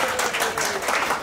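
Hand clapping from an audience at an evening event, a dense patter of many hands throughout, fairly soft and steady with no clear pauses.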